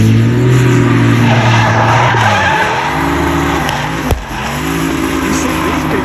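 A turbocharged BMW V8 drift car heads out onto the track at a Japanese car show event, its engine roaring loud and steady with tire skid and squeal running throughout, no voices over it.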